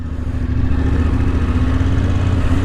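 A VOGE 900 DSX adventure motorcycle fires up and settles into a steady, loud idle, with a close, even low engine rumble running without a break and no talking.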